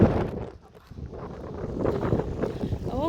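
Strong wind on a windy day out in Denmark buffets the microphone, making a rough, gusty rumble that dips briefly, then rises and churns on steadily.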